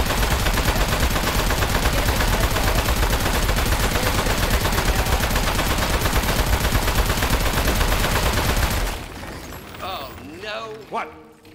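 Rapid, continuous gunfire from the video game Aperture Desk Job, a dense stream of shots for about nine seconds, followed by quieter game sounds and chirpy electronic effects; no talking.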